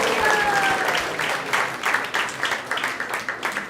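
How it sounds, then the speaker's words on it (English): A crowd at a Krishna Katha discourse breaks into full, steady applause, with a faint sustained vocal tone underneath at the start and the clapping continuing at even strength throughout. "let's give a big round of applause to everyone who has joined us here"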